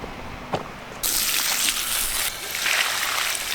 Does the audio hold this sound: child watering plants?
yes